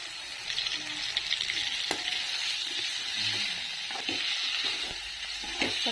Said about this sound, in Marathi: बटाटा पण आपल्याला त्यातच परतायचा चला चांगलं परतून घेऊ आपण